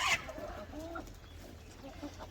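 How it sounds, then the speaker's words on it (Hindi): Chickens clucking and calling on a farm as they hurry in to eat scattered grain, a loud burst at the start followed by softer, intermittent clucks close by with no talking. "ये देखें मुर्गी दूध पी रही है।"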